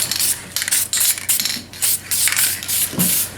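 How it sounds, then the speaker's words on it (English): Automotive paint sprayed from a rattle can in short, overlapping bursts, heard as a series of about eight hissing sprays with brief gaps between them, close and fairly loud with no talking. "This is automotive paint in a rattle can. Yeah. And we're overlapping coats with short burst to keep the overspray to a minimum."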